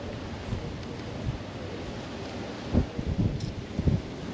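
Outdoor wind buffeting the microphone in steady gusts beside a Lexus GS460 engine bay, with stronger rumbling bursts near the end and no talk.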